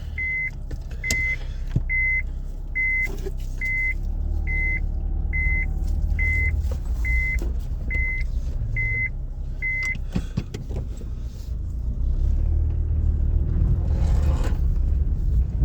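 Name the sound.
car driving away on the road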